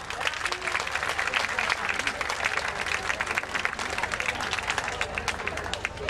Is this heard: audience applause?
yes